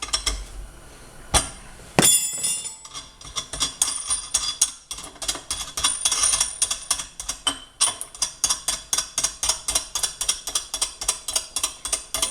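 Bolts being loosened on a Ski-doo Expedition QRS clutch held in a vise, a fast run of ratcheting clicks and metallic clinks repeating close up throughout.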